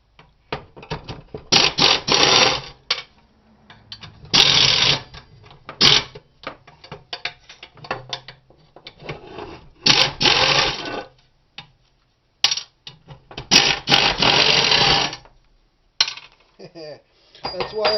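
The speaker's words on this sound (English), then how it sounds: "Air tools. I love air tools." While a table saw is scrapped, an air tool buzzes and rattles in short, repeated bursts of a second or two, close and loud. Clanks of metal parts and brief pauses fall between the bursts.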